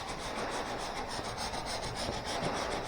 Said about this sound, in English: I'm holding the block up just a little, but you're angling instead of straight sanding